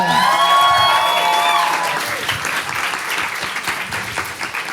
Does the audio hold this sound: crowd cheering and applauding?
yes